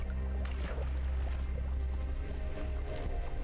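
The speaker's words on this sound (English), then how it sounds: "Oh god, it's a tunnel with water." Flowing water inside a tunnel in a video game, a constant low rushing wash with faint drips, steady and fairly loud throughout, no talk.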